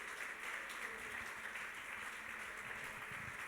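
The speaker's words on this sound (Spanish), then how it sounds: "Vamos a darle un aplauso de bienvenida" Faint, distant applause from a church congregation welcoming newcomers at a service runs evenly throughout, soft and diffuse with no voices standing out.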